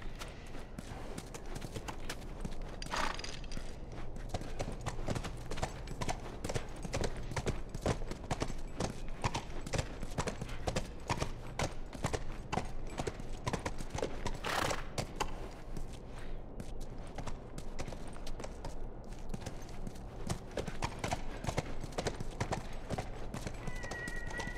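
Horse hooves clip-clop at a steady walking rhythm in The Last of Us Remastered, close and continuous, with an occasional snort or whinny and faint ambient noise beneath.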